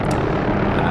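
Helicopter rotor and engine drone of an OH-6A in the DCS Vietnam game, a steady loud broadband whir filling the short moment without a break.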